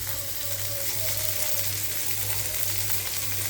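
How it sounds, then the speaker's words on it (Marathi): Fish, including tuna, frying in a pan give a dense, continuous sizzle and crackle, steady and close with no speech over it. "आणि हे माझे टोना मच्छी आणि माझे फ्राय होत आहे मासे"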